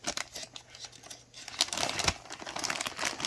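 Close, soft crinkling of a plastic bag in irregular bursts, rustling and crackling as it is handled.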